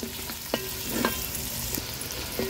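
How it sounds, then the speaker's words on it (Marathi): Chopped onion and garlic fry in a pan over a wood-fired stove, a steady sizzle running throughout with a few clinks and scrapes of stirring. "कांदा आणि लसूण छान शिजवून घेणार आहोत।"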